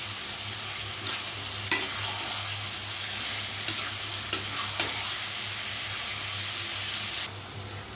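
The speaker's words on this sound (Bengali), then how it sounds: "মশলার সাথে মিশিয়ে নেব।" Chicken pieces stir-fry with spices in a pan, a constant sizzle under a low hum, with a handful of sharp scraping clicks from the spoon spread through the stretch; no voices.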